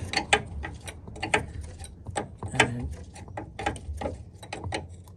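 Close, crisp ratcheting from a socket wrench loosening the nut on a front suspension wishbone of a Land Rover Freelander, with repeated bursts of rapid clicks separated by short pauses and no voices.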